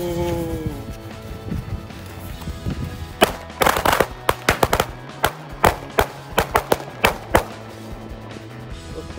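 Korean-style firecrackers burst in a quick string of sharp, loud cracks after a quieter stretch of lighting, the pops coming irregularly and close by, with faint talk in the background.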